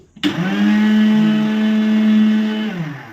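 An electric kitchen mixer grinder starts abruptly and runs at a steady, loud, high-pitched whine for about three seconds before winding down slightly at the end, close to the listener.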